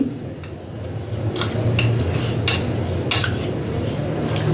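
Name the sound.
stirring milk into bael fruit drink with spoon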